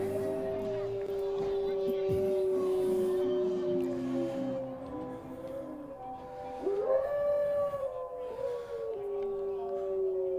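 Fans at a C-team high school football game between Eastlake and Bothell howl like wolves, a sustained loud wavering chorus carrying on for about ten seconds with a brief swell near the middle.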